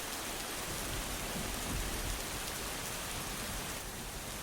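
Steady rain pours across the whole stretch, dense and close, with low rumbling thunder swelling beneath it around the middle before easing back into the continuous downpour.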